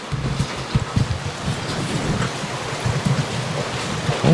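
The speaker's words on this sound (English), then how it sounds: "So, it's a good rain out there." Steady rain falling outside a garage, a continuous broadband wash with some gusty rumble, moderately loud and with no talk.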